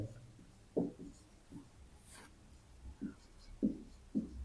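A pen scratches across paper while working a polynomial maths problem, short soft strokes at an uneven pace with quiet gaps, close and faint.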